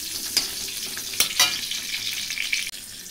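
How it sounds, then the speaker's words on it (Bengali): Chopped onions hit hot oil in a wok and crackle with a bright, close sizzle, broken by a few sharp stirring scrapes. "পেঁয়াজ কুচি দিয়ে দিচ্ছি"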